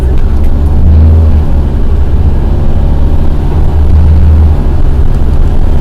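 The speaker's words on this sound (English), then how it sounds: "Oh, and traffic's moving." Road traffic heard from inside a moving vehicle, a loud steady engine and road drone with low rumbling swells, continuous throughout.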